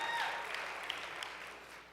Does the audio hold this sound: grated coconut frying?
no